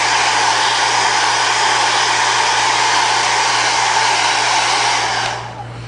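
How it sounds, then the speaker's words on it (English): A hair dryer blows steadily and loudly up close to dry Pros-Aide prosthetic adhesive, a constant whooshing roar with a low hum that cuts off near the end, no voices. "Alright, so I'm drying the glue."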